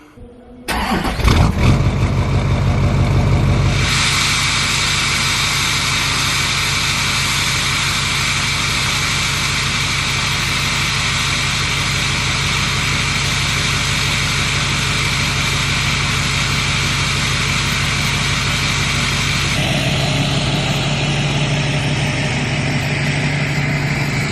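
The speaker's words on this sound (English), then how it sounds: "I know this truck's very loud in the morning whenever I leave, but all right, let's get this thing cranked up" A Duramax diesel pickup with a 5-inch straight-pipe exhaust cranks briefly, fires up loudly, then settles into a steady, rumbling idle that continues unbroken at close range, with a slight change in tone near the end.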